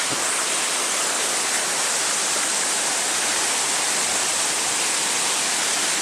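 Water pours continuously over the limestone tiers of Pha Taek waterfall in Khao Laem National Park, Kanchanaburi, a loud, close, steady hiss and rush with no talking.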